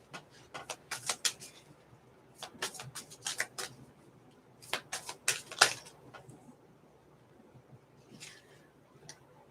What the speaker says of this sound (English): Which I love the sound of shuffling cards.